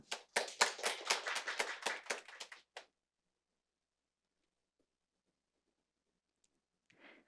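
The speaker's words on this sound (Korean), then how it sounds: "큰 박수로 환영해 주시기 바랍니다" A modest audience gives a short burst of applause for a presenter at a Korean UNESCO learning-cities conference. The quick, crisp clapping lasts under three seconds and stops abruptly, followed by near silence.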